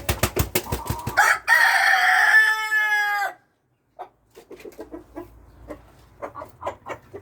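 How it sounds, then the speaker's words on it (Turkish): Chickens cluck and a rooster crows loudly up close, followed by a pause and then scattered soft clucking and clucks from the flock. "Horozlarımız, tavuklarımız geziyor."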